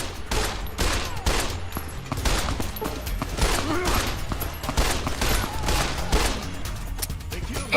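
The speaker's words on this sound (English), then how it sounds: "Who's shooting at me?" Rapid gunfire in Fallout: New Vegas, a dense run of sharp, loud shots cracking close together with scattered bursts, continuing steadily across the whole stretch.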